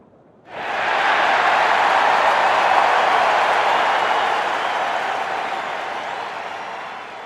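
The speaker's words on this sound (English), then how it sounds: "A cheer went up from the shivering crowd of curious onlookers who had appeared." A shivering crowd of onlookers in a winter fantasy horror setting bursts into a loud, sustained cheer and applause. It begins abruptly and holds with little decline.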